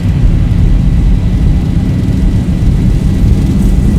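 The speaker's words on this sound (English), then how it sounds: "Takeoff thrust set." Engines of a Zibo Boeing 737-800 in X-Plane 12 spooled up to takeoff thrust, a loud, steady, full-band roar with deep rumble that holds constant throughout.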